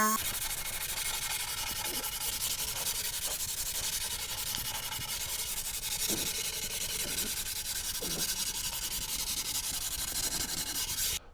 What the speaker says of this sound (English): Okay, final sand with 150.